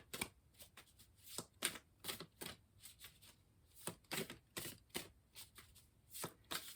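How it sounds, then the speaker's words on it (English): Tarot cards shuffled by hand up close, a quiet run of crisp riffling bursts and soft slaps in an uneven rhythm, with no talk. "So let's do some shuffling for this one."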